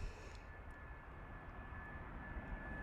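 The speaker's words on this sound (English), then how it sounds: "EasyJet A319, big old ball of light there coming in" EasyJet Airbus A319 jet airliner on approach to land at Bristol Airport in the evening, a distant steady engine roar that holds at a low, even level throughout.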